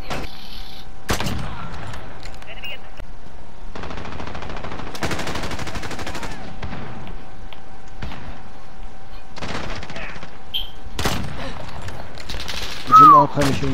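Rapid automatic gunfire and single shots from a Modern Warfare match, bursts repeating loudly across the scene with brief gaps, alongside occasional game effects.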